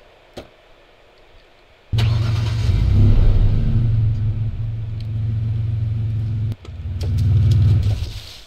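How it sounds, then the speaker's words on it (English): In the video game Days After Infection, a car engine rumbles loud and close while reversing. It revs up, eases off, cuts out briefly, then revs again, after a quiet start with a single click. "Let me back up the car."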